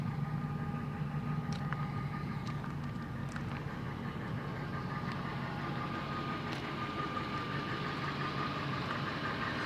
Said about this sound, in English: Exhaust still sounds real good.